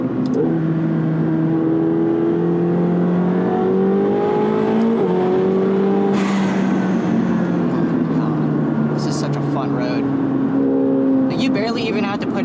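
A 900-horsepower McLaren 720S pulls hard from inside the cabin on a damp road, its engine note rising in long revving sweeps with gear changes, loud and continuous throughout.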